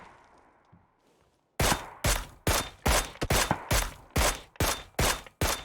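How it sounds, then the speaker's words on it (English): Rapid gunfire in the battle royale shooter PUBG during a professional European scrim match, about a dozen sharp, loud, evenly spaced shots bursting out after a quiet start. "Couple of rage shots coming out there."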